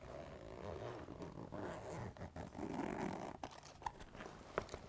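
Zipper on a lunchbox pouch being pulled open, a soft, close rasping zip followed by faint scratches and light clicks, quiet overall.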